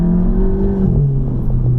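A VW MK7 GTI with an EA888 engine and an Injen intake drives along, its engine giving a close, steady hum with shifting tones and faint turbo whoosh.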